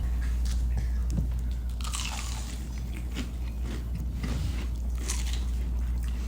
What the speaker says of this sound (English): First thing we do is we take a bite of a wing